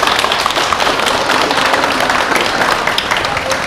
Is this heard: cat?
no